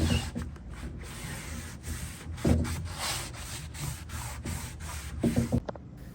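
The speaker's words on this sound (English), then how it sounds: "I am using acetone as well just to get off the rest of that finish." Rag rubbing over an old finish on a wooden Art Deco vanity with acetone, a dry repeated scrubbing hiss in short strokes close by, with a few heavier bumps, and no talking.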